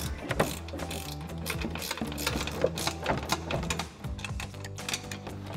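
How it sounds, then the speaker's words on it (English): A 16 mm ratcheting wrench clicks rapidly and steadily as it backs strut nuts off a 2019-2023 RAM 1500 during a suspension lift install, a close, continuous mechanical ratcheting with brief pauses. "I'm using a 16 millimeter ratcheting wrench to remove these nuts."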